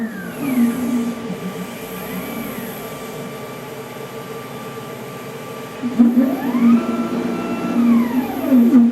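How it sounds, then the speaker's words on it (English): A CAMaster CNC router spindle whining at speed while cutting, with steady high-pitched tones that ramp down and back up as the machine moves, loud and close with no talk. "I have a 4-second delay for the router to get up to speed"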